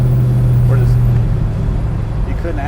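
A 1966 Chevrolet Chevelle SS pro-touring car with a swapped LS1 V8 idles with a steady, loud low rumble and a brief higher tone early on, running alone without talk.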